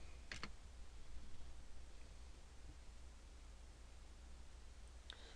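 A computer keyboard is typed on in two brief bursts of clicking, one near the start and one near the end, faint and close against a quiet hiss.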